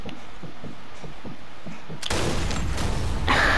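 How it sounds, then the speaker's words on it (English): A sniper rifle shot in Sniper Elite 4 multiplayer cracks sharply after soft footsteps, followed by a loud, sustained ringing rumble and a second burst of noise close by. "Sniped him in the toes."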